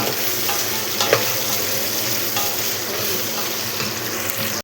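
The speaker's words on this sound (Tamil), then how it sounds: "எல்லாம் போட்டு வதக்கிட்டு கொஞ்சோண்டு மஞ்சள் பொடி போடலாம்" Vegetables for one-pot sambar rice sautéing in a pot, a dense continuous sizzle with occasional spatula knocks and scrapes, loud and close, ending with a sudden cut.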